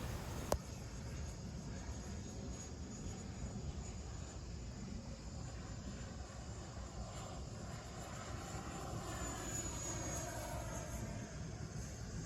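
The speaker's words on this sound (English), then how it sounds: "I am taking off and landing in a different direction from the first flight." An XFly F-35 RC model jet, a battery-powered electric ducted fan, flies steadily with a continuous whining roar that holds level for the whole stretch, with a sharp click near the start and no talking.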